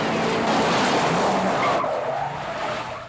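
A car skids hard on a freeway while traveling the wrong way against traffic in a 1985 film chase, with loud continuous tire squeal and engine roar that ease off slightly near the end.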